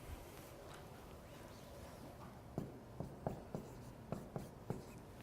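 Marker or pen strokes on a board or paper while working a double-integral homework problem, a run of short, sharp scratchy taps spaced about half a second apart over a quiet background.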